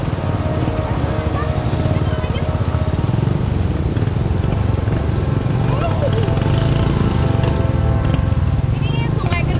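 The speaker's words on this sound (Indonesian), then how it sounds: "jadi harus benar-benar motor itu menerjang sungai" Motorcycle wading through a river with no bridge near Baturotok village, Indonesia, a loud continuous engine roar mixed with rushing water and splashing, with a voice talking over it.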